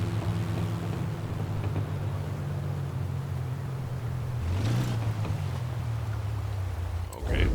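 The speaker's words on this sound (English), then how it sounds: "why is my car sounding like that?" A car engine from the racing game Forza Horizon 4 drones steadily at a low pitch with a constant hum, rising briefly in pitch partway through before settling again.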